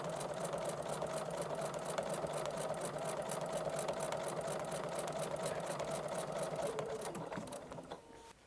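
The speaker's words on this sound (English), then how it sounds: "Stitch over until you get to that line, and I now can follow my stitching line." A sewing machine fitted with an echo quilting foot stitches in a fast, steady whir that runs continuously, then slows and trails off near the end; no one speaks.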